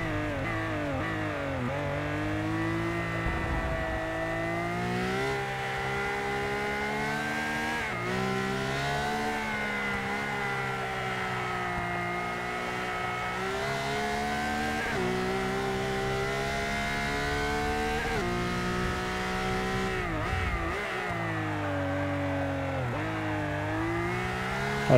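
Modern GT1 hypercar in race trim from the racing game Forza Motorsport 6, its engine droning loudly and continuously through rising and falling revs and gear changes, with no talk over it.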